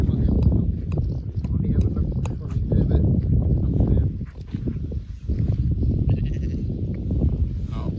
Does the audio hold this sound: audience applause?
no